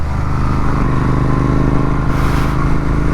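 A Yamaha MT-15 motorcycle cruises on a highway with a loud, steady engine drone and wind rumble close up, holding an even pitch without pause.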